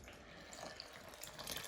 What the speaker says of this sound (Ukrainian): і заливаємо сюди трошки води